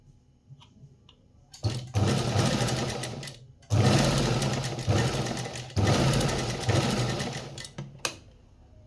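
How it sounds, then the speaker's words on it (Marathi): A sewing machine stitches blouse fabric in three loud, rapid bursts of a few seconds each, separated by short pauses, with a clicking mechanical rattle close by. "इथं शिलाई मारून घेतल्यानंतर डबल आपल्याला तिथंच थोड्याशा अंतरवरती शिलाई मारून घ्यायची आहे"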